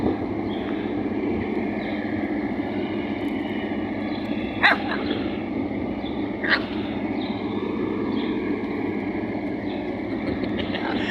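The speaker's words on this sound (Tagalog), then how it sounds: "may mga aso rin dito" Dogs bark a couple of times in the distance, brief and faint, over a steady low outdoor hum.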